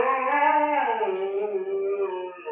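A dog gives one sustained, wavering howl close by, its tone sliding slightly as it goes, loud and alone with no talk over it.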